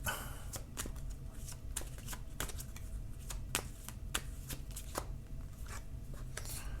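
Tarot cards are shuffled in a steady series of crisp riffling bursts, about a dozen evenly spaced slaps and flutters, close and quiet, with no talking.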